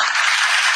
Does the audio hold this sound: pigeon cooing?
no